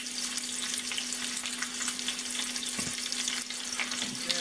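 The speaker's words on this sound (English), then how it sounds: "throw these in, bone side down to begin with, and we're going to brown all sides of this" Beef short ribs sizzle steadily as they brown bone side down in a hot pan, a continuous close frying crackle with a faint electrical hum and an occasional brief clink partway through, no voices.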